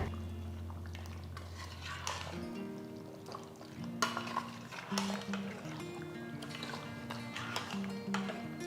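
Mint, coriander and fenugreek leaf paste is stirred into mutton biryani in a pot, giving soft, quiet wet scraping and occasional light clinks with a low hum underneath.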